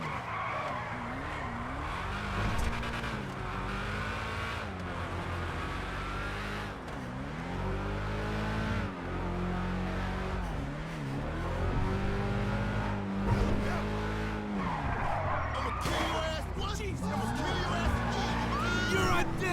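Cars in a GTA video game skidding and squealing their tires with engines revving, continuous racing traffic noise throughout, with someone talking over it.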